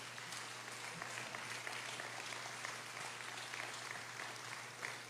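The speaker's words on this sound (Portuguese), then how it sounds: "pode aplaudir a Jesus" A church congregation applauds together, a dense, even wash of clapping that fills the space throughout with no talk over it.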